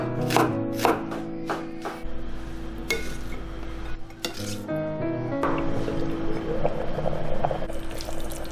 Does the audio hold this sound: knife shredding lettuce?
yes